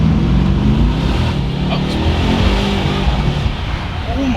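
A 2019 Mercedes C63-S accelerates hard with wheelspin, its engine roaring loudly with rising pitch through the gears, close and continuous, while people talk over it.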